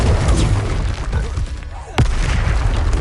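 Confringo fire spell blast in the Hogwarts Legacy video game, a single sharp explosive boom near the two-second mark that cuts through a dense, loud wash of game action noise.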